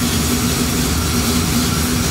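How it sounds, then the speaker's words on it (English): A Small Block Chevy 406 V8 in a 1973 Impala, suspected of rocker arm noise, idles with a steady, continuous low rumble and hum, close and loud, with no talking. "when you first start it up, it'll start off idling high"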